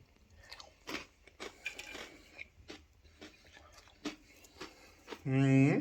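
Crisp baguette-style snack crackers are crunched and chewed close to the mic, with irregular bites and someone talking between them, ending on a louder burst of voice.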